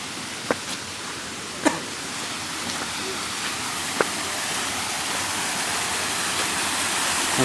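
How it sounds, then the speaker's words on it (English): Waterfall at Angkor Wat, water pouring steadily over rocks in a broad, even rush that fills the scene, with a few brief clicks and knocks standing out above the constant flow. "So this is now, I think, the waterfall. The water's going through there."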